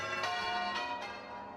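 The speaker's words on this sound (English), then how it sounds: "the church bells rang in celebration" Church bells ring out in celebration of a wartime breakthrough, with sustained, rich resonant tones and a few fresh strikes that sway and decay over a short stretch.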